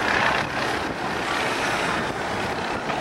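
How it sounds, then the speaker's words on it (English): Engine of a Stearman Kaydet biplane restarting in flight during an airshow, a steady broadband propeller drone held at constant loudness across the whole stretch with no talk over it. "Now listen to the engine here."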